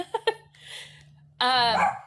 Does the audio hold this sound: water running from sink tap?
no